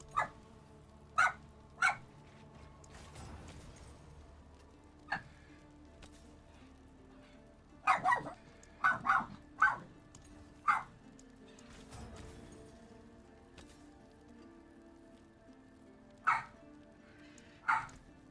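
A dog named Mika barks in sharp, separate bursts, single yaps and quick doubles spread unevenly over the stretch. The barks are fairly close and loud against a quiet indoor background, with no talking.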